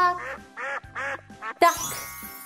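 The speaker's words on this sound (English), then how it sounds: "This is a duck." A duck quacks in a farm setting, with a handful of loud, nasal quacks coming in quick bursts. A brighter, noisier sound follows near the end, and no one speaks.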